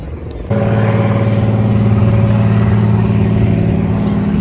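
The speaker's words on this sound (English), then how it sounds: "the plane is flying" Steady loud engine roar with a low droning hum that kicks in abruptly after half a second and holds level, like an aircraft passing close overhead, in Vancouver Harbour.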